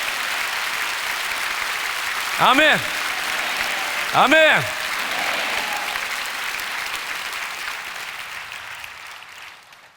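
Congregation applause in church during a prayer gathering, a dense sustained roar of clapping throughout that slowly fades at the end, with a voice calling out twice over it.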